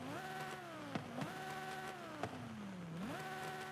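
A swapped-in engine in a car racing video game hums steadily, its pitch rising and falling through several quick shifts and rev changes, with a couple of sharp clicks between gears.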